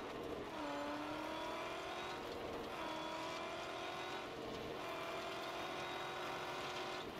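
A vehicle engine in the Mad Max video game revs and drones steadily, rising and falling in pitch over several seconds, loud and continuous with no talking.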